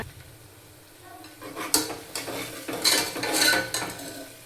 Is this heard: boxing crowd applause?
no